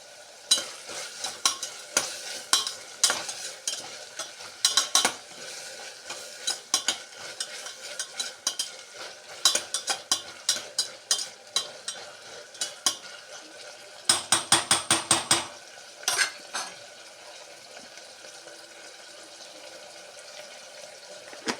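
Chopped tomatoes fry in a generous mix of ghee and oil while being stirred, a soft sizzle running under repeated scraping and clattering spoon strokes against the pan, with bursts of tapping around the middle; no one speaks.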